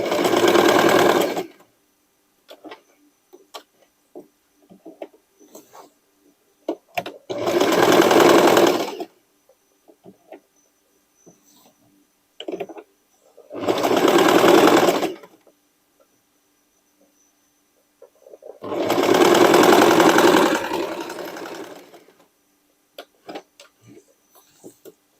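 A sewing machine stitches sweatshirt fabric and scraps into a dress, running in four separate bursts of a few seconds each with quiet pauses and small handling clicks between them.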